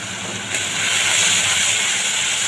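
A spice paste with turmeric and salt fries in a pan with a loud, close hiss that jumps up sharply about half a second in and then holds steady, with no voices.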